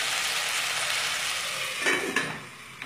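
Tomatoes being stirred in a pan for a Bengali tomato chutney give off a steady, broad sizzle, with a couple of soft knocks as the spoon moves near the end.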